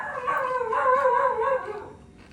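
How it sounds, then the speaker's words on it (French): A dog howls at night in Bali, a single drawn-out wavering howl that rises and falls for about two seconds before fading, fairly close and heard alone. "Tiens, c'est le chien qu'on entend toute la nuit."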